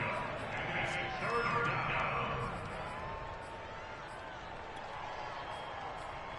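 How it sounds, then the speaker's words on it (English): A stadium crowd in Madden NFL 22 swells into a cheer ahead of a big third down. The roar is a broad, steady wash that peaks early and then settles to a softer background murmur, with commentary heard over it. "the crowd getting into it as we come up on a big 3rd down"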